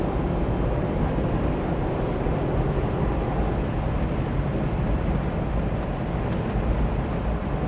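A 1958 Chevy Impala convertible with a 283 V8 and a three-speed column shift cruises along, engine and wind roar filling the cabin in a steady, loud, unbroken drone.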